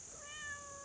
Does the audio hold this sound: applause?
no